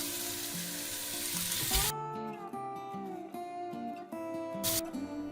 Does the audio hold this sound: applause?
no